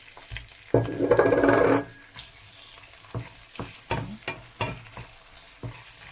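Chicken gizzard pieces tipped into a pan of cooking onions and garlic burst into a loud sizzle for about a second, then settle into quieter frying broken by several sharp stirring clatters.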